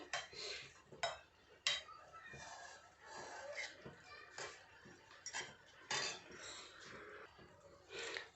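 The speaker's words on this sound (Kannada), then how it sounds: "ಬ್ಯಾಳಿನ ಚೆಂದಂಗೆ ಒಮ್ಮೆ ಮಗಚ್ಕೊಂಡ್ಬಿಡೋಣ್ರಿ" A utensil stirs cooked lentils in a pot, giving soft scraping and intermittent clinks against the metal, quiet and close, with a voice talking at times.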